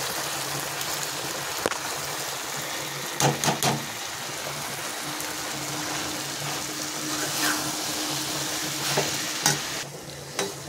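Cabbage hits a pan and fries with green chillies, a steady close sizzle with scraping stir strokes and a few sharp clatters of the spoon against the pan.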